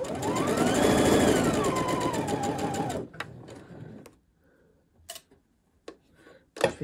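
A sewing machine stitching two layers of fabric for men's boxer shorts runs in a fast, loud whirring burst for about three seconds, then stops, followed by scattered light clicks and handling noises close by.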